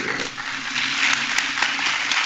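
An audience applauding, a dense wash of clapping at moderate distance with a few sharper claps standing out, continuous through the whole stretch.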